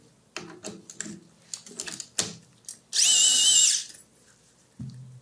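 A surgical drill bores into a tibia while an intramedullary nail is placed, a single loud whirring burst of about a second, preceded by scattered clicks and clinks of instruments in a quiet operating room.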